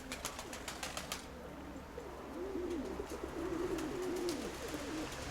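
Pigeons coo in a loft in a few rounded, repeated calls, close and fairly soft, with a sharp rhythmic clatter in the first second.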